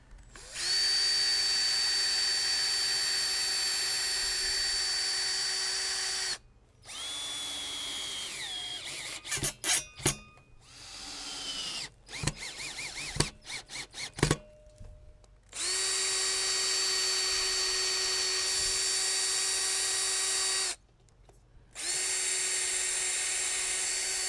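A high-pitched power drill with a self-centering bit whines steadily in long runs, stopping twice for a stretch of clicks and knocks before spinning up again.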